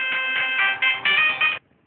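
A phone ringtone plays loud and close in a repeating electronic tune with short rhythmic pulses, then stops abruptly near the end with no talk.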